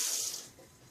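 Tap water splashes briefly into a cooking pot for frozen green beans, a short bright hiss that fades within a second.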